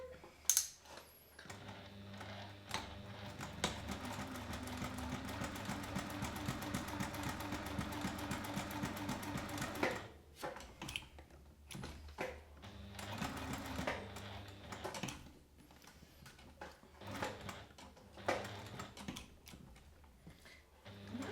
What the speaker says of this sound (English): now I'm going to top stitch so it stays folded even without the tape